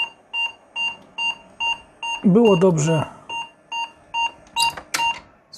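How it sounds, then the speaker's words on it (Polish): A failing old 386 computer beeps over and over in a steady rhythm of short sharp tones, about two per second. Someone talks over the beeps partway through. "Pika."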